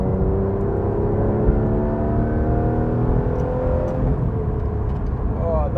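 Porsche 911 GT3 RS (991.1) engine heard from the cabin while driving, its rising and falling tone climbing through the revs, with a voice talking over it.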